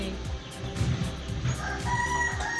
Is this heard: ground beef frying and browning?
no